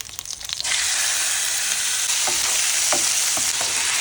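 Boneless chicken cubes hit a pan of minced ginger and garlic with a sudden loud sizzle that holds steady, broken by a few stirring scrapes and taps, close and with no talk.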